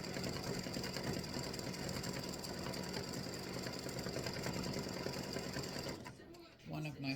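An embroidery machine stitching black thread on white fabric, a fast steady mechanical whir and rattle running close and evenly, then stopping near the end as a few quieter sounds follow.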